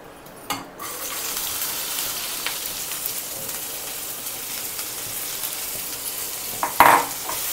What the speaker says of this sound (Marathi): कढई गरम झालेली आहे. मी आता त्याच्यामध्ये भेंडी टाकते भाजण्यासाठी.